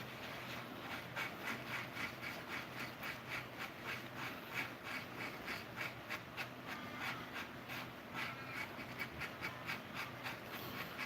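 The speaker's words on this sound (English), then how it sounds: "Okay, the epoxy is mixed, or is getting mixed now." Epoxy glue being stirred for a Musso Bowie knife glue-up, a steady rhythmic scraping and rubbing repeating about twice a second, close and moderately loud, with no talking.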